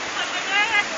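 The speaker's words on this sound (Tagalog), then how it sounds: "Yan po, waterfall." A waterfall rushes as a steady, broad hiss of falling water, with a voice briefly audible over it.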